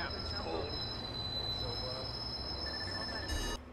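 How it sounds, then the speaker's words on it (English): A train pulls into a station in the video game Watch Dogs, with a steady rolling rumble and high metallic wheel squeal ringing over it, ending with a brief louder burst. "Southbound train, arriving shortly."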